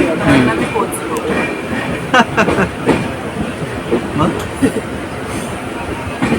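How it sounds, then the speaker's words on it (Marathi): A passenger train carriage rattles and clatters along the rails, with rhythmic clacks, metallic squeals and a steady rumble heard from inside, while voices talk faintly underneath. "मग बसले ट्रेन मध्ये."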